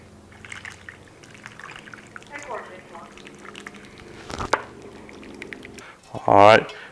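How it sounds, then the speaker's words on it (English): Sauce poured over chicken and its juices in a pot at a Biloxi fire department cooking demo, a brief loud liquid pour near the end after quieter kitchen clatter. "Then we're going to get our sauce and pour it on top."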